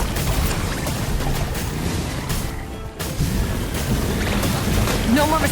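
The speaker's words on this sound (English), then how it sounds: "Rev the engines!" A rumbling, surging engine roar with splashing water from a boat in Genshin Impact, loud and continuous, dipping briefly before swelling again, with a voice heard over it.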